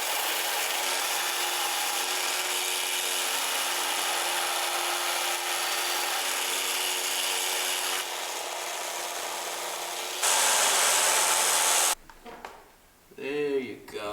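A belt grinder grinds the bevels of a bowie knife blade, giving a loud continuous abrasive hiss that shifts in pitch as pressure changes, then cuts off abruptly at the end.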